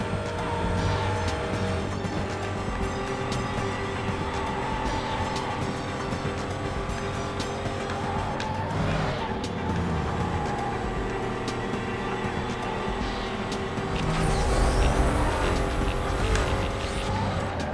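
A Koenigsegg CCX race car engine in the 2005 racing game Need for Speed Most Wanted roars steadily and loudly throughout, with shifting engine pitch and a brief surge near the end.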